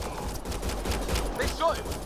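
Gunfire in the Mass Effect Andromeda video game, a rapid burst of shots under game ambience and a brief voice, fairly quiet overall.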